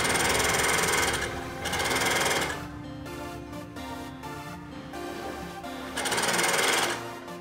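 A semi-industrial GN1-6D overlock sewing machine stitches fabric in loud, fast mechanical bursts, running about two seconds, pausing, then running again, with quieter handling sounds in between.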